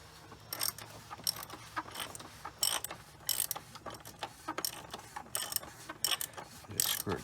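Quick, quiet clicking of a ratchet wrench screwing down the oil filter housing on a Mercedes GLK diesel, in a steady run of close, soft clicks without talking.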